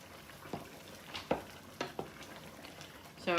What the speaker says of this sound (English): I want to stir in my roux. And this is the thickener to your soup.